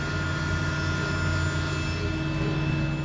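The exhaust fan inside an xTool M1 laser cutter blows with a steady, unbroken drone and hum, constant in level from start to finish, with no voices.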